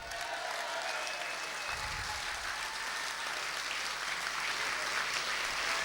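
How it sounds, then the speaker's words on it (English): Political rally crowd applauding for John McDonnell, a dense, steady roar of clapping that carries on unbroken throughout. "could you make lots of noise for John McDonnell?"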